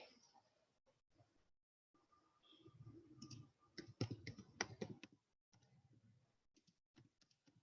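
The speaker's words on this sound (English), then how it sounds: "bear with me, I'm typing" Quiet clicking of keys on a computer keyboard in uneven bursts, with faint background hum and pauses between strokes.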